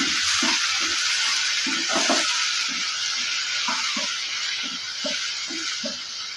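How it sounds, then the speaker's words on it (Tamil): Small shallots and a tomato sauté in hot oil in a pan, a steady loud sizzle broken by regular clinks and scrapes of a spatula stirring, with no talking. "ஒரு பத்து போல் சின்ன வெங்காயம் அது கூட ஒரு தக்காளி இதையும் நம்ம வதக்கி எடுத்துக்கலாம்"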